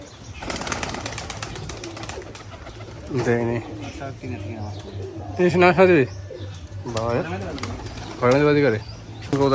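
Giribaz pigeons at a loft coo in several repeated bursts, close and fairly loud, over a steady background hum and some scattered noise.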